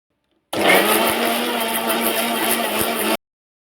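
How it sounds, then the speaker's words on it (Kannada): A kitchen mixer grinder churns milk cream into butter with a loud, steady motor whir and sloshing roar that runs for about three seconds, then cuts off abruptly. "ಇವಾಗ ಮಿಕ್ಸಿ ಹಾಕ್ಕೊಂಬರ್ತೀನಿ."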